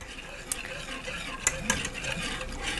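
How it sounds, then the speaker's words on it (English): A wire whisk stirring a warm custard mixture for homemade ice cream, a steady soft swishing with a few sharp clicks of metal against the pot, and no talk. "Using the wire whisk again to get everything thoroughly dissolved,"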